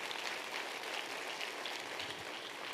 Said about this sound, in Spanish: Dale ese aplauso al Señor.